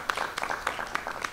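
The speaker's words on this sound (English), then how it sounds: "May we have a round of applause for those stories and sharings," A brief round of audience applause in a parish hall forum, a modest scattering of claps with uneven bursts, short and moderately close.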